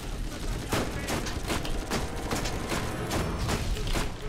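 Pistol gunfire in the video game Borderlands, a steady run of loud, sharp shots repeating roughly every half second over a constant background din.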